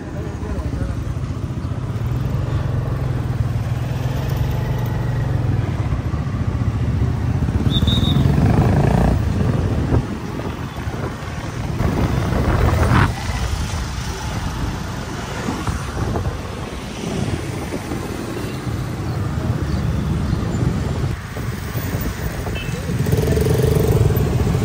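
Motorcycles and other vehicles idle and creep along in a road jam, a dense, steady rumble of engines close by for the whole stretch, with people talking over it.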